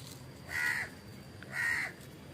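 Two loud, harsh crow caws ring out about a second apart during a morning bird feeding, with quiet background between them and no talking.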